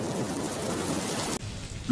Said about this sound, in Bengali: দেখ, বৃষ্টি নামা শুরু করলো যে